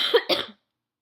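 A person coughing twice, close and sharp, in two quick bursts followed by silence.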